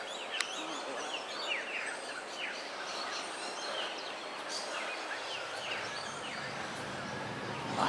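Birds call continuously in the tropical Daintree rainforest near Kuranda village, a busy layered chorus of chirps, whistles and squawks at middle distance, with faint voices mixed in.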